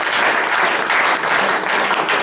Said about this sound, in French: nous allons acclamer plus fort le Seigneur